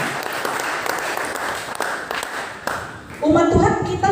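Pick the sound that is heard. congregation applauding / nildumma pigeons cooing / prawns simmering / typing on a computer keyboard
congregation applauding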